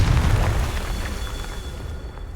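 Confringo fire spell blast in the Hogwarts Legacy video game, a deep rumbling boom at the start that rolls and fades into a roaring, dwindling tail.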